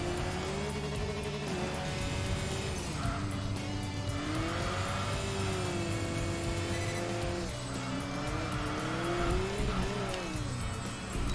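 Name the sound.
Saab 9-5 Aero turbo engine accelerating, Enthusia Professional Racing video game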